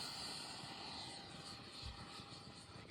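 Electric ducted fan RC model jet, a 50mm Arrows Hobby model, flying overhead outdoors in wind, giving a steady airy whine and rush that holds fairly constant at moderate distance, with no voices.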